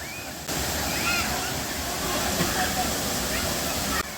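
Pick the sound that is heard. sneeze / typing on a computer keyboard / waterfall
waterfall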